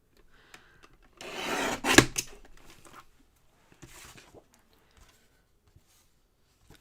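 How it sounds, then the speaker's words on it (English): A paper trimmer cuts down the side of a handmade Christmas card, a single close scraping slide of about a second ending in a sharp snap, followed by a softer brief rub and light taps in near silence. "Let me give this a trim down the side."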